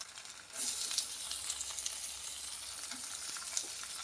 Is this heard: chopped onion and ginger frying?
yes